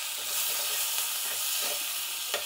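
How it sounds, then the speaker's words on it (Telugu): Mustard seeds splutter in hot oil while being tempered for a buttermilk seasoning. A steady close-up sizzle runs throughout, dotted with small crackling pops and one sharper pop near the end, with no voices. "ఇప్పుడు ఆవాలు చిట్లా పట్ల అయింది."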